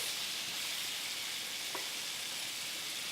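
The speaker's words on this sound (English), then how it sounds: "I've got a couple of Roma tomatoes here that I'm gonna fry up" Roma tomatoes fry in a pan, giving a steady, fairly faint hiss of sizzling that holds evenly throughout, with one small click partway through and no voices.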